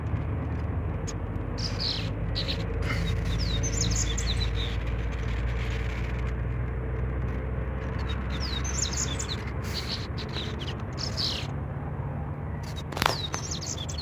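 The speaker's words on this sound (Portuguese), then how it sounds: "ali lá em cima temos um coleirinho cantando" A double-collared seedeater sings quick, bright whistled phrases at a distance over the low steady rumble of a running car engine, with a brief thump near the end.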